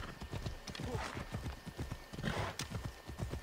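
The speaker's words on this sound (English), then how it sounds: "God, Phobos is such a good horse, dude." Hooves of Phobos, a horse in Assassin's Creed Odyssey, clip-clop in a steady close rhythm, with a brief whinny and faint talk in the background.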